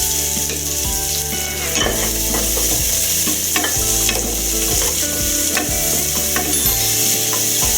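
Onions sautéing in a pan for salna, a steady loud sizzle with repeated scraping strokes of a spoon stirring throughout, close and continuous with no talk.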